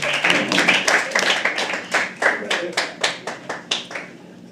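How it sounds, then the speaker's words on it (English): A small audience at a live poetry open mic claps as a poet takes the stage, a run of distinct, fairly close handclaps that thin into a slower, rhythmic sequence of single claps before fading. "Clap like that as she comes on stage."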